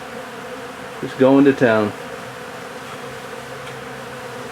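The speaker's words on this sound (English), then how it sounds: "Hear those bees? Nobody's stinging me." Honey bees buzz in a low, continuous drone as they eat out a honeycomb, a steady hum nearby with someone speaking briefly over it.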